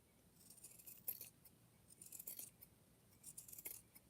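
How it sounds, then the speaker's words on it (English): Scissors cut a strip of fabric for a rope basket, with three quiet, crisp snips spaced about a second apart against a near-silent background. "Let me cut a strip right quick."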